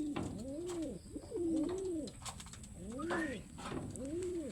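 Pet pigeons coo in repeated rising-and-falling throaty phrases, several birds close by, with faint mechanical clicks and background rustle between the calls.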